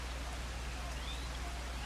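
Rain in Farming Simulator 25 falls as a steady, even hiss with no breaks, filling the whole moment with dense, soft patter.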